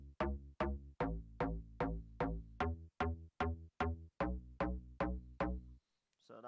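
Donk synth from a self-made dance track: a repeating series of about a dozen punchy, bouncy plucked bass hits in even rhythm, clean and upfront, ending in silence.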